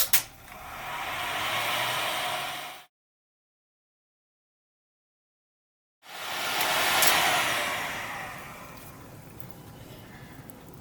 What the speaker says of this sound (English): maybe I'll use the hair dryer on it